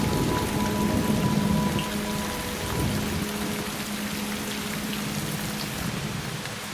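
Steady rain falls in western Tasmania, a dense continuous patter of drops on surfaces with low rumbling underneath, sustained and close throughout with no voices.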